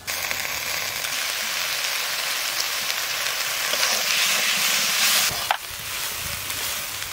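Green and dried chili paste sizzles in a frying pan over ginger and garlic while cooking prawns with young jackfruit. The loud, steady crackling frying runs throughout, with a brief scrape of stirring near the end.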